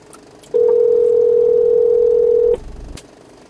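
A steady electronic tone rings through a Roav Viva by Anker car Alexa unit on a slow-connecting phone call, one continuous loud beep held for about two seconds over quiet car background, then cutting off.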